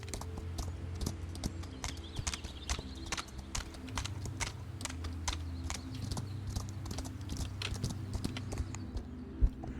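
Horse hooves clip-clop in a steady walking rhythm in the video game Equinox Homecoming, close and clear over a low ambient background, with quiet clicks mixed in.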